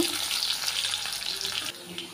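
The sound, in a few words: thin potato slices frying in oil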